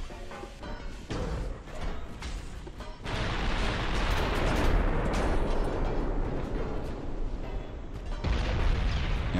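Battleship turrets firing 14-inch naval guns in the game Ultimate Admiral: Dreadnoughts, heavy booming blasts rolling into a continuous loud rumble of gunfire and explosions.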